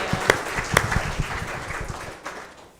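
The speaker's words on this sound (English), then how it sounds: "can we give a big round of applause to everyone who makes the church so special and successful?" Church congregation giving a short round of applause, a few sharp distinct claps up close over a thin patter that fades out within a couple of seconds.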